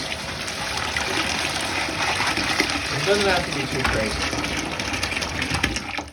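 Water runs and splashes steadily while aquarium filters are rinsed, a continuous trickling gush up close, with a person talking briefly over it.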